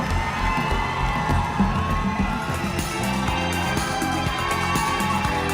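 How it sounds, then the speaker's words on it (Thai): A large crowd at the Miss Universe Thailand 2020 pageant cheers and screams continuously for a contestant, a steady, dense roar of shouting and whooping voices with no pauses. "เชียร์เยอะมากเลยครับคนนี้"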